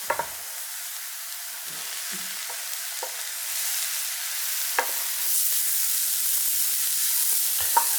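A steady, gentle sizzle of mushrooms cooking in a hot pan, with a few soft clicks of stirring scattered through.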